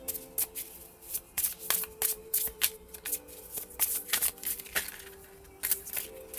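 Tarot oracle cards are shuffled by hand in a quick, uneven run of crisp riffling slaps and flutters, close and clear, with no talking.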